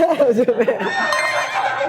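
A horse neighs with a loud, wavering whinny that opens the sound and fades into a noisier, breathy tail.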